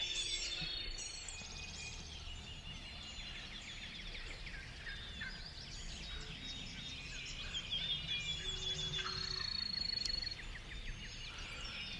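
Outdoor woodland ambience on a Kentucky hillside with birds chirping throughout; a distant wild turkey gobble rises midway, faint against the background.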